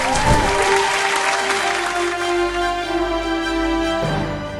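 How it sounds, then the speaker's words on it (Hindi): Loud, steady clapping from a crowd of people, sustained throughout with a faint tone or music underneath. "जोरदार तालियां हो जाए"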